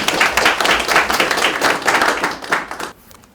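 Audience at a conservative political forum in Mapo, Seoul, bursts into dense, sustained applause welcoming a speaker, loud and steady for nearly three seconds before fading quickly.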